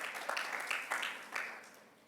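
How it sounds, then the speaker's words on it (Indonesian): A church congregation at a Sunday worship service claps in a brief, moderately distant burst of scattered applause that fades over about two seconds. "Monggo yang setuju, beri tepuk tangan"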